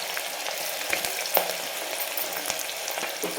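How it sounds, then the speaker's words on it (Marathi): Sliced onions frying in hot oil for a mutton masala curry, giving a steady close sizzle with scattered crackles and a few soft clinks through the whole stretch, with no voices. "आता तेल छान गरम झालं की याच्यामध्ये आपण टाकून घेऊ जो आपण उभा चिरून घेतलेला कांदा होता ना"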